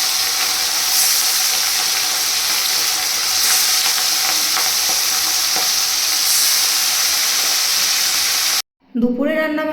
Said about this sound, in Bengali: কড়াটা গরম করতে দিয়েছি, মাছগুলো ভাজবো